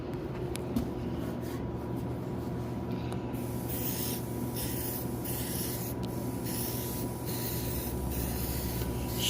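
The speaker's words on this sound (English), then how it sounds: "Spray some more paint right here." An aerosol can sprays paint onto a John Deere X300 lawn tractor, giving a steady close hiss that runs unbroken, with a few short pulses where the nozzle is pressed again.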